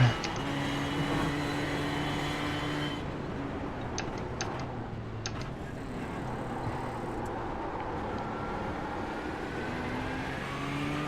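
A Rolex 24 endurance race car drones in the iRacing sim, holding a steady, loud engine note with pitch shifts as it changes speed, alone with no talk.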